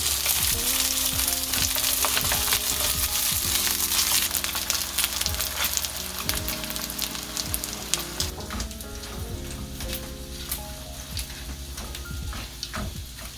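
Korean pan-fried dumplings (gunmandu) sizzle in oil in a hot pan, a dense, continuous crackle and spatter heard close up and alone, easing slightly toward the end.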